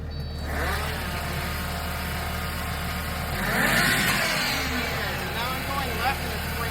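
Bobcat SG60 stump grinder engine running steadily close by, a constant loud drone that swells briefly midway, with no talk over it.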